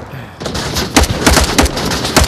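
Video game gunfire, a rapid series of close, punchy shots in uneven bursts over a steady background rumble.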